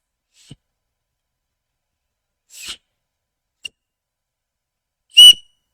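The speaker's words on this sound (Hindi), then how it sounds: "अरे वाह यार, सीटी है तो।" Whistle blown in short, scattered bursts, a faint peep, then a quick blast and a short chirp, ending in one loud shrill toot, alone in otherwise silent surroundings.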